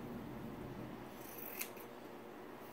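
Scissors snipping apart sewn quilt fabric pieces for a half log cabin block, one faint, brief cut over a quiet background hum.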